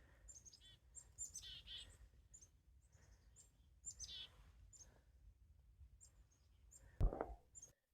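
A chickadee calls softly outdoors, giving several faint, high chirps and whistled notes spaced out over a quiet background, with one louder close sound near the end.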